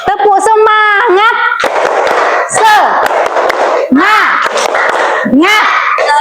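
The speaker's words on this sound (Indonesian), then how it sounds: "tepuk semangat ya" A school class doing a rhythmic spirit clap with loud, sharp bursts of hand claps in patterns. Children's voices chant and shout between and over the claps.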